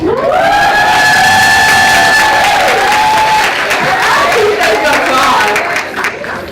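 An audience at a Ladies Day speech claps and cheers loudly and steadily, a dense wash of applause with high shouts and whoops on top, easing slightly near the end.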